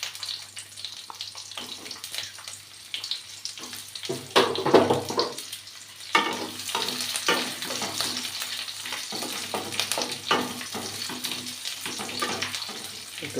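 Sliced onions frying in a small amount of oil with black cumin (nigella seeds) for a Bengali yardlong-bean dish, soft steady sizzling broken by scraping stirs and clattering utensil knocks, close and moderately quiet with no talk.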